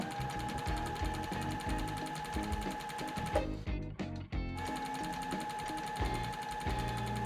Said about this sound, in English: I'm gonna sew on both sides 1/4 inch seam